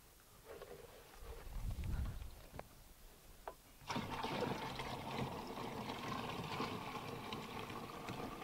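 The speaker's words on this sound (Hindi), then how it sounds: "इसको ऊपर पंप में डाल दो, अब इसको पानी से पलवा लो।" Water is poured into a sprayer pump tank in an okra field, a faint trickle that swells into a louder, steady gushing fill, with a few light knocks and clicks before it.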